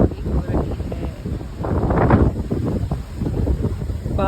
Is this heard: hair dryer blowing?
no